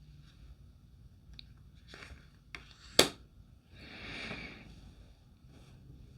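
Tarot card stock from an Ethereal Visions Illuminated deck snapping sharply once amid quiet shuffling and soft handling sounds, followed by a brief rustle.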